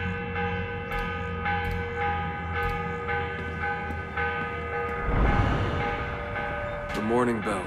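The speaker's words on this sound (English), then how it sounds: "The morning bell. God, I hated that. Ringing 5 days a week just before dawn." Church bell tolling at dawn in Assassin's Creed Revelations, struck in a slow, steady series of ringing hits with a long sustained hum, loud and close, with a brief burst of other noise and a voice near the end.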